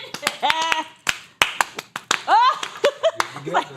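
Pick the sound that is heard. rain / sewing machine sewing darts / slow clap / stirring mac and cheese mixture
slow clap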